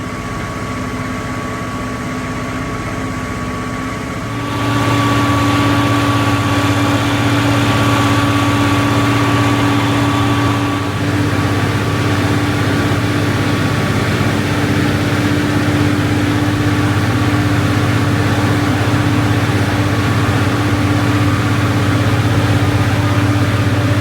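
A Deutz-Fahr 9340 TTV tractor with a 7.8 liter six-cylinder twin turbocharged diesel idles with a low steady drone, then the engine revs up after a few seconds and holds a louder, deeper hum with a faint whine above it.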